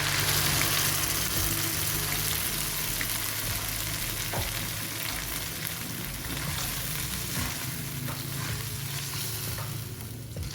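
Ground spice paste sizzles loudly in hot oil in a pan where shallots were already frying, a dense continuous hiss with soft stirring scrapes throughout, for a chicken curry with torch ginger flower.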